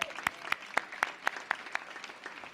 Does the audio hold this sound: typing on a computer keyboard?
no